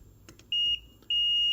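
A multimeter in resistance mode, probing an LED circuit to ground, gives two clean high-pitched electronic beeps, a short one followed by a longer sustained tone, close and clear over a quiet background.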